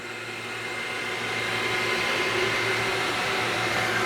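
An Ortur Laser Master H10 laser cutting out a shape, heard as a steady mechanical whir and fan hum with a constant low drone, moderately loud and unbroken, no voices.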